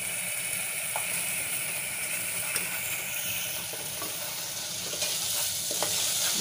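Yogurt (dahi) fries in a pan for dahi aloo, a dense continuous sizzle and bubbling with faint stirring over several seconds, heard alone without any talking.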